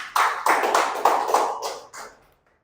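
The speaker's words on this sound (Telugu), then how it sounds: "ఈ సార్కి ఒకసారి మనం క్లాప్స్ చూద్దాం." A small audience claps for Gautam Bali at a company event, a short burst of five or six loud, close bunched claps that fades out within two seconds.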